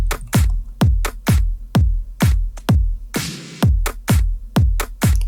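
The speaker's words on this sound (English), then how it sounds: "that is a clap, a very small clap, just to make some reverb stuff" A small clap sample drenched in reverb, played as part of a beat built in FL Studio: a steady pattern of punchy hits with long decaying tails, one swelling noisy wash midway, with no talking.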